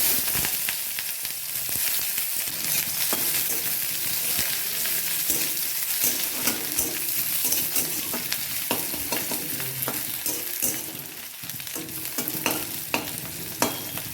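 Onions fry in hot oil in a wok with a steady, loud sizzle, punctuated by frequent scraping and stirring clatters of a utensil against the metal throughout.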